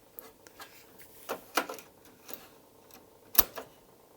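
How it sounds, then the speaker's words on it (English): An Amiga 1000 floppy disk drive clicks in a quiet room, giving a series of irregular faint ticks with two or three sharper clacks. "The drive is clicking"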